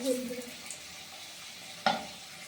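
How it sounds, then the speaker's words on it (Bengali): Potatoes fry in a pan while cooking fish at home: a quiet, steady sizzle runs throughout, broken by a soft stir or clink near the end, with no voices. "আলুগুলো আমি ভেজে নিচ্ছি"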